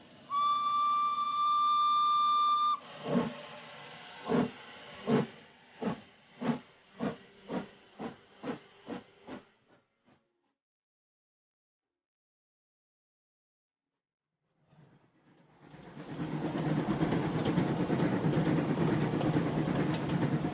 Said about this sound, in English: Fogg, Mrs. Aouda, Passepartout and Fix get on the train that evening.